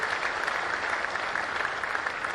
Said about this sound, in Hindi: एक बार नकवी जी के लिए जोरदार तालियां बजा दीजिए।